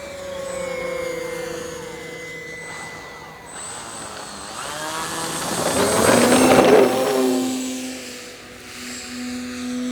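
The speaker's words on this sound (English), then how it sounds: "The Twin Otter moves along at full throttle." An Avios Twin Otter 1600mm scale twin-engine STOL model plane on floats runs at full throttle, a steady buzzing whine of its electric motors that swells louder as it passes close, then eases slightly, heard alone without talk.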